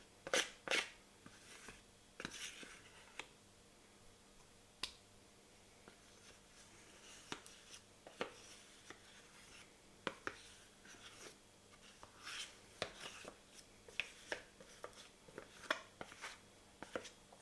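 A spoon scrapes and scoops thick cream cheese out of plastic tubs in a quiet room, producing soft, close-up clicks, taps and smeary scrapes at an irregular pace.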